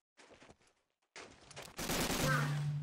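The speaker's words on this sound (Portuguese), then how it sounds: "tá rolando tiro" Gunfire in the video game Medal of Honor: Allied Assault, starting as scattered faint shots and building into a loud sustained burst of fire.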